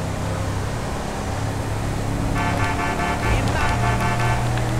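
Mahindra XUV 700 engine in GTA 5 revving loud and steady through an upshift into fourth gear during off-road driving, with a brief horn-like tone partway through.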